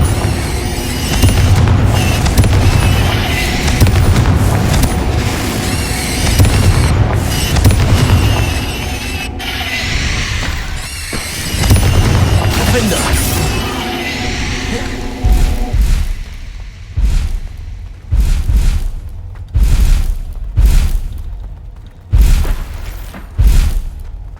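Confringo blasting spells going off in Hogwarts Legacy, a dense stretch of booming, crackling explosions and debris that later breaks into a rapid series of separate punchy bursts, loud and close.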